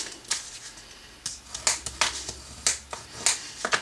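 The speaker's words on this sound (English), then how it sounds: "Now cut the part where it's too big and fold it over." Cardstock is cut and folded for a wedding box, giving a series of crisp, close snips and creases in an irregular rhythm over a quiet background. There is no speech.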